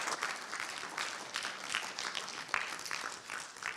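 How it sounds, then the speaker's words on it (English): Applause from a conference audience at the close of a talk, a steady wash of many hands clapping at moderate volume, fairly close, with scattered louder claps and no voices. "Let's get a round of applause"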